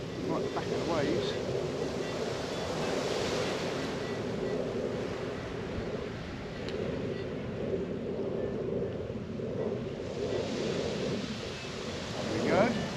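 Ocean waves roll and break on a beach at night in a continuous rumbling wash mixed with wind buffeting the microphone, with faint voices and a brief shout near the end.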